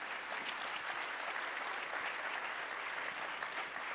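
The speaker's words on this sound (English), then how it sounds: "how about a round of applause for our panelists?" At a conference general session, an audience gives the panelists a round of applause. It is a steady, even wash of many hands clapping that sounds fairly distant and soft and carries on without a break.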